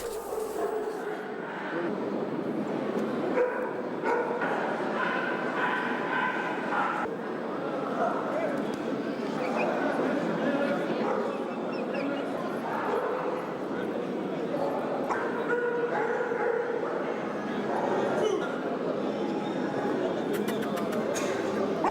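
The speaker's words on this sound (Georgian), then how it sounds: "დღეს კავკასიური ჯიშის ძაღლების საკონკურსო დღე იყო." Caucasian shepherd dogs bark and yip at a busy international dog show in Tbilisi, a continuous din of many dogs at middle distance under crowd noise, with a voice talking faintly in the mix.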